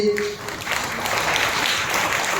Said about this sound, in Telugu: బిగ్గరగా చప్పట్లు కొట్టండి